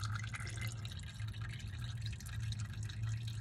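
Dirty engine oil from a 2017 Ford Fusion dripping steadily, a continuous close trickle of liquid over a low hum, no voices.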